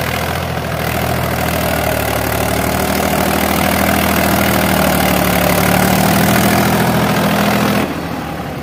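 A tractor engine drones loudly and steadily up close as the tractor turns without braking, a constant low rumble with a slight pitch rise midway before it dips near the end.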